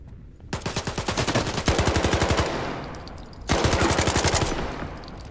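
A gun in Stalker 2: Heart of Chornobyl fires two long automatic bursts of rapid, evenly spaced shots, loud and close, separated by a short pause, with no talk.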